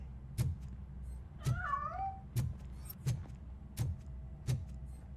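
A cat meows in the Robocop Rogue City video game, a single wavering, drawn-out call set among regular footsteps or thumps and a low steady background hum.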